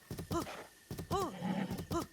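A horse in The Legend of Zelda: Breath of the Wild gives several short, rising-and-falling whinnies in quick succession, with soft hoof clops between them, fairly faint and heard alone.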